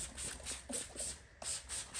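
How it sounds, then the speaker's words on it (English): Spray bottle misting water onto a car headlight for wet sanding with 2000 grit, a series of short soft hissing bursts in a quick regular rhythm, close and fairly quiet. "spray it on, get it all wet."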